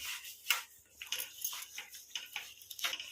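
Bottle gourd (lauki) being stirred with sugar in a pan for lauki barfi, giving soft repeated scraping and clinking strokes of a utensil against the pan at a steady rhythm, close and fairly quiet, with no talk.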